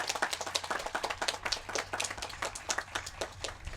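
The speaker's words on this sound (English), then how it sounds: "Let's give him a round of applause." An audience at a teachers-of-the-year event claps for a student, a close, quiet patter of individual hand claps forming a sparse, rhythmic round of applause.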